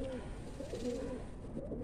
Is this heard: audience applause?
no